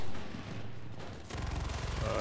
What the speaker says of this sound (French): Fais gaffe, Wolf, ça tire de derrière nous là.